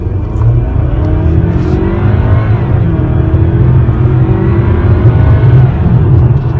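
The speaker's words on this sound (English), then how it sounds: "So we're going to test out that turbo on our 0 to 60." A 2015 Hyundai Sonata Sport 2.0T turbocharged engine roars steadily as the car accelerates hard from 0 to 60 mph, a loud sustained drone with rising tones, no voices.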